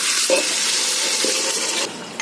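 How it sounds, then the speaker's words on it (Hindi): Mutton sizzles as it fries in a large pot for haleem and is stirred, with loud continuous frying hiss and a few scraping stirs of a utensil against the pot. "मटन को थोड़ी देर भून लेंगे।"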